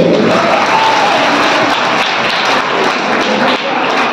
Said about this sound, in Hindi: और एक बार जोरदार तालियां इनके सम्मान में